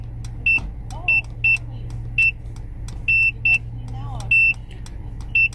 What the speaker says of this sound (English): And then you can turn the beeping off. Right now it's on.